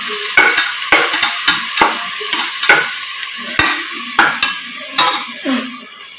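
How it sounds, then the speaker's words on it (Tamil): Mint, coriander and curry leaves sauté in a pan for mutton biryani, with a steady sizzle under repeated sharp scrapes and knocks of a metal spoon stirring against the pan, close and clear with no talking. "இது நல்லா வதங்கட்டும்."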